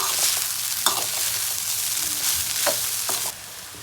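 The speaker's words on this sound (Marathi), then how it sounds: "बघा, अशा प्रकारे आपली संपूर्ण वडी यामध्ये मिक्स करून घेऊया." Onion vadi mixture being stirred and mixed in a pan, a steady sizzling hiss with several sharp scraping strokes of the spoon, close and fairly loud, no voices.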